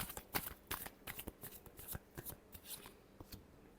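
Tarot cards being shuffled by hand, a quick series of crisp riffling snaps and flutters at close range, fairly quiet, with no talking.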